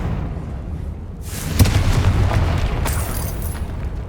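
Confringo blasting spell explosion in the Hogwarts Legacy video game: a sudden loud boom erupts after a quieter rumbling lead-in, followed by a sustained crackling blast and a second burst near the end.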